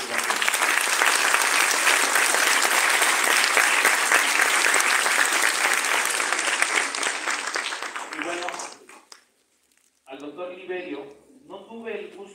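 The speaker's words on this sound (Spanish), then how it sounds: "quiero que le brinden un fuerte aplauso" Audience applause at the inauguration of a 13th congress, a dense sustained clapping for about eight seconds that fades out, followed by someone speaking.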